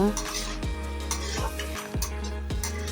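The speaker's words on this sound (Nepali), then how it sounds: "यो दुईटालाई चाहिँ मजाले चलाउनु पर्छ" Onion, capsicum and a cornflour slurry are stirred in a pan for soya chunks chilli, a spatula scraping and knocking against metal in a regular rhythm over a soft sizzle, close up with no talk.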